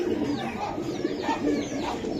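Giribaz pigeons cooing in a loft, several soft throaty coos repeating in a loose rhythm, close but quiet against a light background hum.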